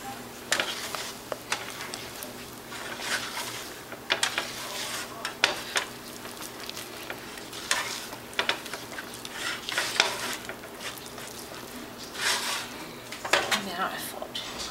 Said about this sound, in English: So she's going to lightly fold it in there.